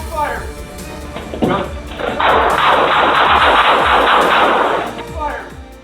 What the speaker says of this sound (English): Gunfire erupts